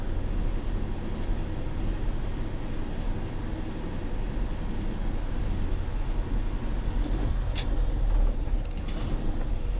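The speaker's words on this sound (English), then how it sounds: "Just warm her up for a minute or two." A 1972 International Harvester Travelette 1210 crew cab 4x4 truck engine idling while warming up, a steady dense rumble with faint mechanical rattles and a couple of brief squeaks.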